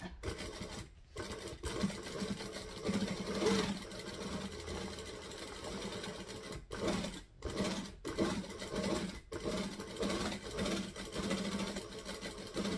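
A home sewing machine stitching piping onto a vixen pattern, revved in long whirring runs broken by short pauses, with faint handling noises between bursts.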